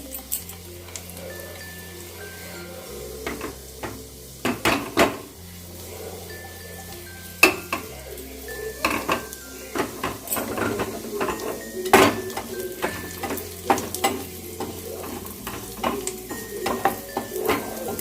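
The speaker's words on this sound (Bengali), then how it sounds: "রসুন কুচিটাকে ভালো করে ভেজে নেব যাতে কাঁচা গন্ধ না থাকে" Chopped garlic frying in a pan as a tempering for palak paneer: a soft, continuous sizzle with intermittent clinks and scrapes of a utensil against the pan, close-up and moderately quiet.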